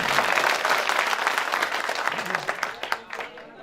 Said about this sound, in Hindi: एक मर्तबा तालियों से इस्तेमाल कर दीजिए।